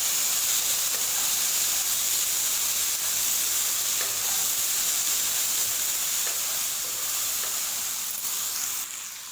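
Garam masala roasting in a hot pan for arvi sabzi gives a steady, loud, even sizzle and hiss that stays nearly unchanged throughout, with faint stirring scrapes.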